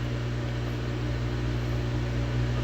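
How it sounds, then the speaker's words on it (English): A microwave oven runs during cleaning, with a foaming cleaner inside, giving a steady, even mechanical hum and fan drone throughout, close and unchanging, with no talking. "As you can see, it's foaming up in the microwave"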